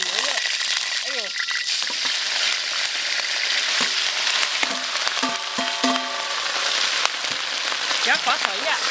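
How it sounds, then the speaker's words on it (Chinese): Beef stir-fries loudly in hot rapeseed oil, a dense, rain-like crackling sizzle that runs unbroken, with a voice exclaiming briefly over the cooking. "加入菜籽油，加入牛肉"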